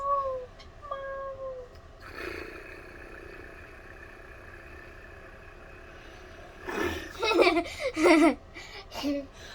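A person imitates a cat with a run of meows, drawn-out vocal meowing that grows louder and more strained toward the end, with a quiet hum behind.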